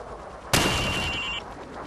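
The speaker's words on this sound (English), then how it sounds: "Now shoot each target while aiming down the sights." A single sharp rifle shot in Call of Duty 4 fires at a target range, a loud crack with a ringing tail that cuts off after about a second.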